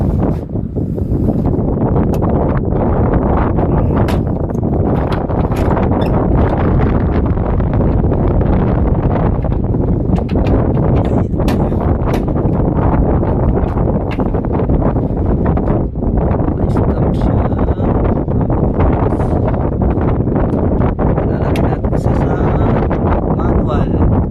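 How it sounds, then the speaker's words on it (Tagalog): A steady, loud roar of rushing air runs without a break, like a powerful blower fan running continuously nearby. "Pressurized blower."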